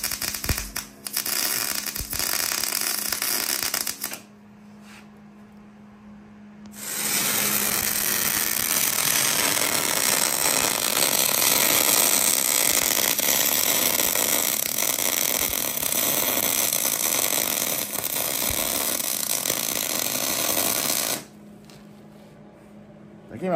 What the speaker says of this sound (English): Need welder on for that.